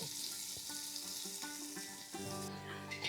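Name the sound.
onions frying in oil and ghee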